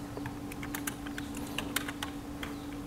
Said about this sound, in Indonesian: kita langsung ketik saja sesuai contoh